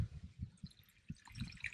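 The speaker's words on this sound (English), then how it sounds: "this tank's draining down" Water drains from a crayfish breeding tank in a home set-up, a soft continuous trickle with irregular low gurgling pulses, fairly faint and steady throughout with no voices.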